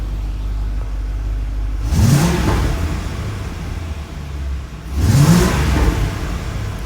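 A 1989 C4 Corvette engine idles with a steady low rumble, rising twice in brief revs before settling back, loud and close with no talking.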